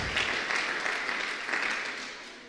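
Applause from a church congregation sounds soft and somewhat distant, a dense patter of many hands that swells briefly and then tapers off toward the end.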